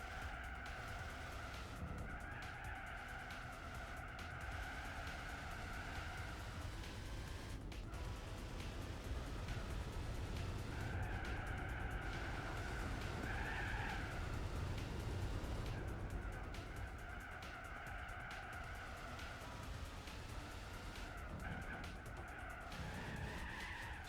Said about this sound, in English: Why am I wheel spinning in 4th?